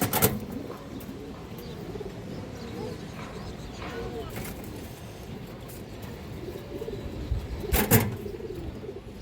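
Pigeons for sale, including a crested female, coo softly and repeatedly in low, rolling calls, with a few sharp clatters and faint voices in the background.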